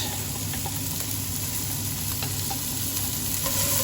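Shallots sizzling steadily in a hot pan with leftover cooking residue, stirred with occasional scraping clicks, continuous and close throughout.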